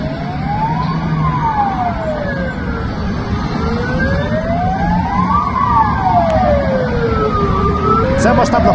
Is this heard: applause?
no